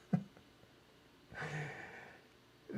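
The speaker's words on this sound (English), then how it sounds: "When you start breathing deliberately and slowly like that" Slow, deliberate breathing close to the mic: a short sharp intake, then a long soft exhale, with another breath starting at the end; quiet and alone.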